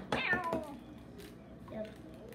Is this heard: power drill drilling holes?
no